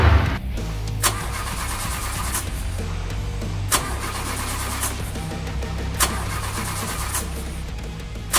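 A toy car engine repeatedly tries and fails to start during a breakdown: a steady low mechanical cranking drone, loud and close, broken by sharp clicks roughly every second.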